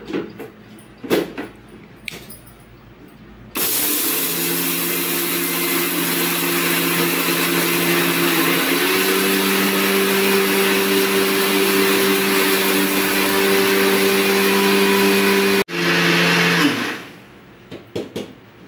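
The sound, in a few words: mixer grinder grinding roasted black gram into powder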